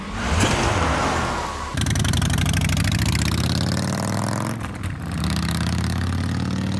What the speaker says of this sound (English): please use the roar of a V-twin engine